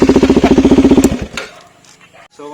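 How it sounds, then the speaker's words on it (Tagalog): A motorcycle fitted with a Yoshimura exhaust, DB killer removed, gives a loud, close, rapid throbbing burst that chops off sharply after about a second and fades into quiet rumbling. "Yoshimura and modified exhaust system without DB killer."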